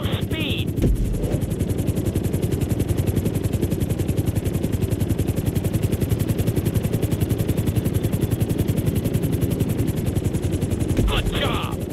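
Helicopter flying during a flight school course in GTA 5, a steady loud rotor chop throughout, with brief voice bits at the start and end.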